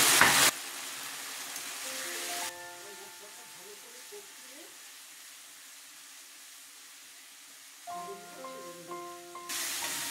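Turmeric, cumin and coriander powders fry in a pan with oil for a fish curry, a loud hissing sizzle at the start and end with a quieter steady sizzle under a person talking.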